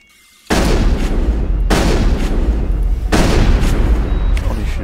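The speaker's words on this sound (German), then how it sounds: "Ich nehme die Schrotflinte." Shotgun fire in the Mass Effect video game, with three loud, booming blasts spaced about a second and a half apart, each followed by a ringing tail over a constant background rumble.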